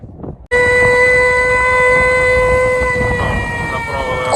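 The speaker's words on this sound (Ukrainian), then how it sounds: "Увага! Повітряна тривога. Пройдіть в найближче укриття. Тривога якраз включилась." Air raid siren alert in Ukraine, a loud steady wailing tone that starts abruptly and holds close and strong throughout, without talk.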